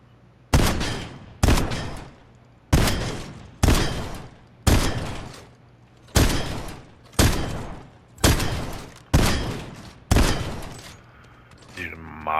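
Guns test-fired one after another on a practice range in Fortnite: about ten loud, sharp single shots at a steady pace of roughly one per second, each with a short decaying tail, no talking.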